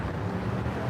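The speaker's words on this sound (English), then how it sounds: "We've got a fantastic breeze today" Outdoor breeze buffeting a microphone at Cowan, Tennessee, on the Cumberland Plateau: a brief, steady low rumble of wind noise with no voices.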